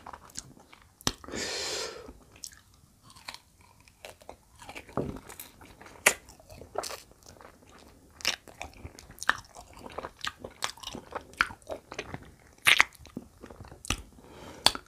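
Crunchy bites and chewing of tamarind pods, a seasonal treat, as a series of close, sharp crunches and wet mastication sounds through the clip, with occasional crinkling and no talk.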